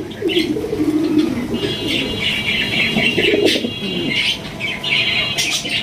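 Fancy pigeons at a breeding loft cooing in repeated low throaty calls, close and clear, with soft chirps and rustling around them.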